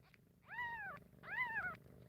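Two short, rising-then-falling squalls from newborn kittens scuffling, each about half a second long with a brief gap between, close and fairly quiet over a low background hum.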